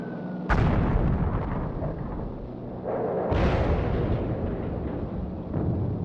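Heavy 12,000-pound bombs exploding around the German battleship Tirpitz in a Norwegian fjord: two sudden deep blasts a few seconds apart, each followed by a long rumbling roar, loud and sustained, with no speech.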